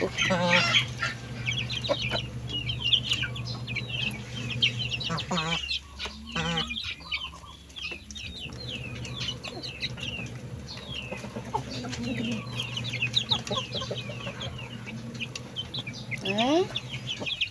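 Pet chickens cluck and chatter continuously while being fed rice mixed with feed, with some quieter background talk and a few louder squawks.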